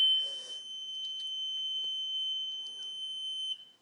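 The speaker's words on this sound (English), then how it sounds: "That's pretty loud. It sounds like a fire alarm." A loud squishy-circuit buzzer shrills like a fire alarm, a steady piercing electronic tone holding for about three and a half seconds before cutting off, with faint clicks and handling noise underneath.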